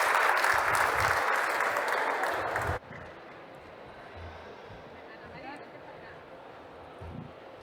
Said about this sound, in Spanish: un aplauso muy grande para nuestro coro